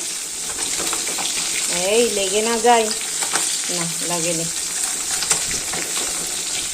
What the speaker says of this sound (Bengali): মাছ ভাজা চলছে, এই যে মাছ ভাজতে বসিয়েছি।